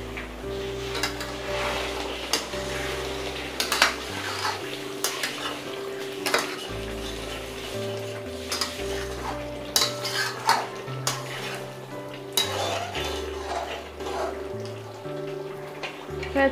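Mutton kofta masala is stir-fried in a pan over high flame, with a busy bed of frying sizzle under frequent loud clanks and scrapes of a metal spoon against the pan.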